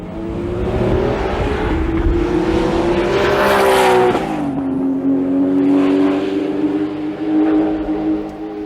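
A Porsche 935 race car engine runs loud and close, revving up with rising pitch, then dropping back and holding a steady, rough idle-to-mid-rev drone with raspy exhaust texture.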